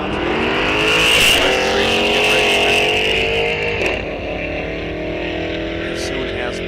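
Drag racing cars, including a Mustang, launch off the line at Rock Falls Raceway during a bracket series event, a loud sustained engine roar that gradually fades, heard under an announcer's voice.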